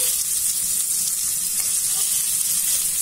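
Parmesan-breaded skewers fry in a hot pan, giving a steady, dense sizzle with fine crackle that holds even and close throughout, with no talking.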